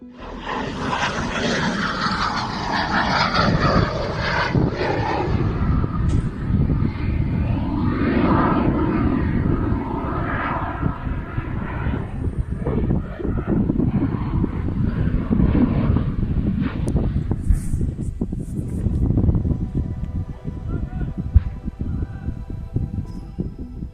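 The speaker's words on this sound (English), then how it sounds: "Airplane crashes into a field." A loud, continuous roar of an airplane engine during a failed landing in Belgorod, Russia, with heavy wind buffeting, rising and churning for a long stretch, ending in rougher rumbling noise as it crashes into a field.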